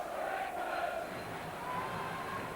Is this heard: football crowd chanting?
yes